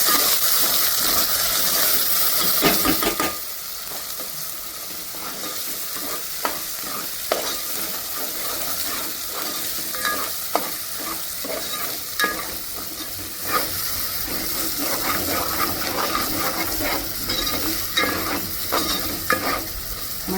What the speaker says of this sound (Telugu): మసాలా బాగా ఫ్రై చేసుకోవాలి,